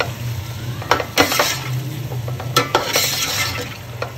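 A ground nutmeg and mace spice mix is stirred in a cooking pot over a soft background sizzle, with several distinct spoon clinks and scrapes against the metal in quick, uneven succession.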